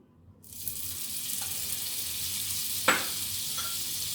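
Butter sizzles on a hot tawa in a steady broadband hiss that sets in just after the start and holds throughout, with one brief sharp spatter or scrape near the three-second mark; nobody speaks.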